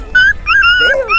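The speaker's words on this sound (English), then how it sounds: "Oh, they got black cop dogs." Police dogs in the video game A Way Out whine and yip in a few short, high-pitched cries, loud and close, over about a second.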